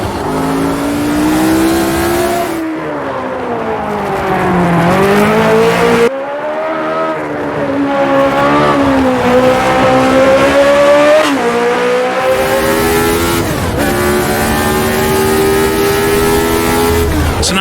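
A ground-effect F1 race car in the Automobilista 2 racing game roars through a lap, its engine rising and falling in pitch with gear changes and throttle lifts, loud and continuous with occasional tire squeal.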